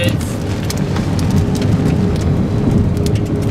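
A hailstorm in Oklahoma City pounds a vehicle on the highway, a dense, loud, steady clatter of stones with sharp individual hits over a low rumble of wind and road noise.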